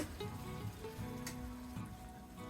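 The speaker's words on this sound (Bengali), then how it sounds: "এবার কিছুক্ষণ আমি ভেজে নেব মাছ আর পেঁয়াজ একসাথে লবণ দিয়ে" Shrimp and onion fry together with salt in a pan, giving a faint, steady sizzle with soft crackles throughout.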